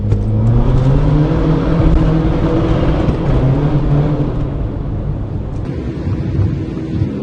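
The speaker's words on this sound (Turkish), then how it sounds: "60 km süratte turbo basıncını doldurarak aracımızı hızlandıralım" A turbocharged VW Polo, tuned from 90 to 200 hp, accelerates hard at about 60 km/h; its loud, close engine drones and climbs steadily in pitch with a faint turbo whir.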